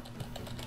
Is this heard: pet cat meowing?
no